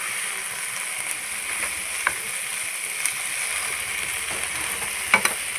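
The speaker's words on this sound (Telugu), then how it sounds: "కొంచెం వేగితే చాలు కొత్తిమీర బాగా ఫ్రై చేసుకోకూడదు" Coriander leaves fry lightly in a pan for chutney, giving a steady soft sizzle throughout with a few faint stirring clicks.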